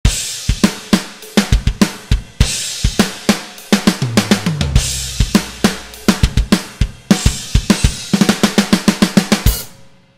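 Programmed drum groove with sharp kick and snare hits and crisp cymbals in a steady, punchy pattern, loud and close, with a brief low tom fill midway and no voices.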